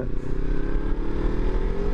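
Kawasaki Z300 motorcycle engine pulling hard under acceleration while overtaking, a loud, steady mid-range drone with a rising pitch over about two seconds, close-miked with some wind and road noise.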